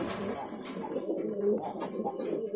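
A Surjomukhi fancy pigeon coos in soft, rolling low calls up close, repeated several times, with some background noise and a brief higher chirp.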